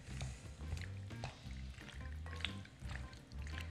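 A spoon stirs cooked pasta through béchamel and tomato sauce for lasagna, giving soft repeated wet squelches and scrapes in an uneven rhythm, close and fairly quiet.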